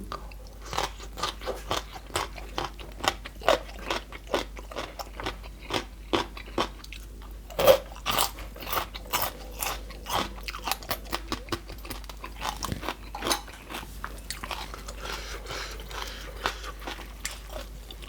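Close, crunchy biting and chewing of Thai food such as bamboo shoot mok, fish mok and spicy som tam, with steady repeated crisp bites and mouth sounds over a low background hum.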